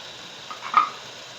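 A brief, close scrape of a spoon stirring chicken karahi with potatoes in a hot wok-like karahi, set against a steady low sizzle of frying oil.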